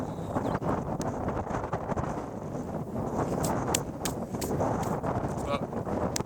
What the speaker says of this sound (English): And now it's getting windy as hell.